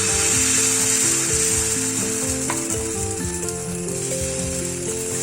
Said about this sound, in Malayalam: ഇനി നമുക്ക് നേരത്തെ തയ്യാറാക്കി വെച്ചിരിക്കുന്ന മാവ് ഇതിലോട്ടൊന്ന് ഒഴിച്ചു കൊടുക്കാം